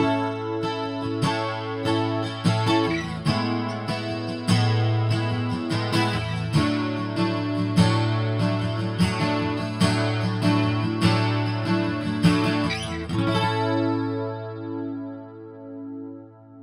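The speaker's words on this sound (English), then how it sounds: "I will turn the reverb off and add some chorus. So we'll go for the wide chorus." An acoustic guitar is strummed through a Fender Acoustasonic 15 acoustic combo amp with a wide chorus effect and the reverb switched off. The chords shimmer and ring out over many seconds, then fade into a sustained decay.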